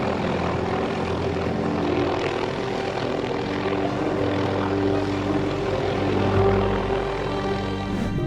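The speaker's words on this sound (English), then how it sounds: "to rescue this seagull stuck in the power lines, they needed a whole helicopter" A helicopter sent to rescue a seagull caught in power lines drones steadily with a low engine and rotor hum, sustained and fairly even throughout.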